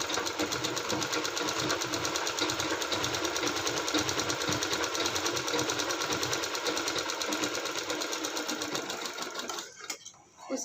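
A sewing machine stitches a hook strip onto fabric, running close and steadily in a fast, continuous whirring patter for about ten seconds before stopping abruptly.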